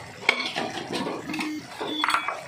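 Two eggs stirred in a dish with a utensil, giving a series of light clinks and scrapes against the dish, close by and moderately quiet.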